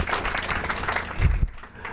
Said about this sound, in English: So I think you can clap hands for that.